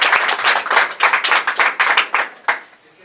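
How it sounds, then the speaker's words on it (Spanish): Audience applause welcoming a lecturer at an event marking fifty years since 1968, a full room clapping steadily for about three seconds with a few sharper individual claps standing out. "Le damos un fuerte aplauso."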